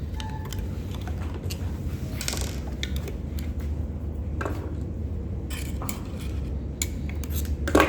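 Metallic clicks, rattles and taps while the board of a Brother S-7180A sewing machine is opened, set over a low steady hum and ending in a louder clatter.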